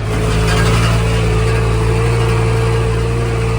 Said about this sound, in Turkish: Motorun sesi içeri kötü geliyor.